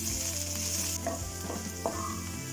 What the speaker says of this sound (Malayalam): അതിലേക്ക് വെളുത്തുള്ളി, ഇഞ്ചി, പച്ചമുളക് എല്ലാം ഇട്ട് കൊടുക്കാം. ഇത് നന്നായിട്ടൊന്ന് ഫ്രൈ ആവട്ടെ